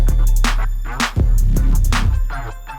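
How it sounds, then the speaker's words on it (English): A high synth lead line in an electronic track rides over steady low bass and punchy drum hits in a busy, continuous mix. "Oh, and I mustn't forget this high lead part,"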